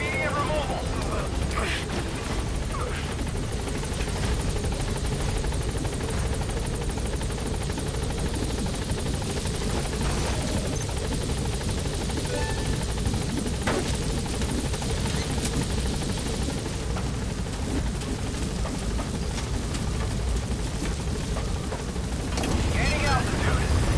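Pequod, the support helicopter in Metal Gear Solid V: The Phantom Pain, gives a steady, loud rotor roar that runs unbroken throughout, with radio-style voice chatter layered over it.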